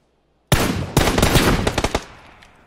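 Automatic gunfire in the video game PUBG, a sudden loud rapid burst of shots lasting about a second and a half, then fading, with no talking.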